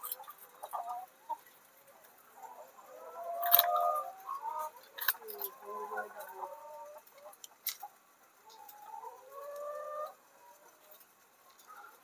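Chickens held one by one by the legs for an RDV vaccination give off faint, scattered clucks and chirps, with occasional soft flutters and thumps in a quiet barn-like space.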